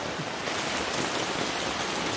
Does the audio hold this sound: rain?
yes